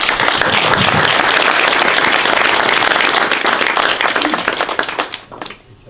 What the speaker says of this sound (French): Donc rien que pour ça, on peut les applaudir.